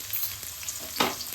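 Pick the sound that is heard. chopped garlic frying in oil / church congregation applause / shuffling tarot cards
chopped garlic frying in oil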